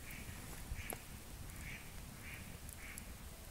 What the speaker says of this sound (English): There's some mallards circling.